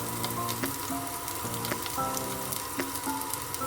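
Green chillies fry in one or two spoonfuls of hot oil, a loud, continuous crackling sizzle with scattered pops and light stirring, heard close with no talking and a faint tonal background.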